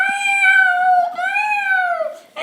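A cat lets out one long, drawn-out meow lasting about two seconds, loud and close, with a rising and falling wail and no other sound around it.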